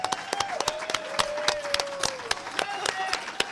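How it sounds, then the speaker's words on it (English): Audience at a hacker talent show applauds the contestants, an uneven round of clapping with sharp individual claps over a low crowd murmur, along with some voices and whistles. "can we have a round of applause for six brave people?"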